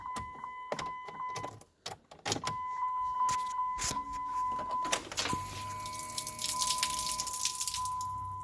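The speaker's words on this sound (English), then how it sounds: "the fuel pump does work" A fuel pump on a 3rd-gen Cummins truck runs with a steady electric whine as a thin tone under clicks and intermittent clatter, heard close and faint in a quiet space.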